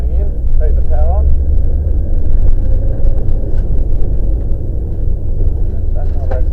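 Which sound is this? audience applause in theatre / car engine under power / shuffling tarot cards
car engine under power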